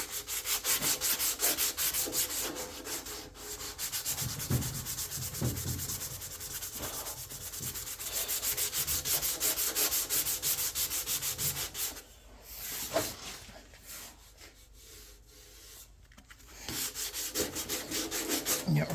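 Hand sanding with 180-grit sandpaper during restoration of a 1967 Evinrude Skeeter snowmobile, a steady loud abrasive rubbing that runs continuously with brief pauses and no talking.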